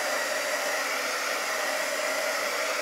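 A hair dryer blows steadily to dry paint on a piece of farmhouse decor, producing a loud, continuous airy roar with an even motor whine and no pauses or voices.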